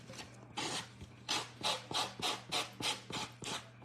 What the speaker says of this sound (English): I'm going to sand a bit more if I can find my sand block here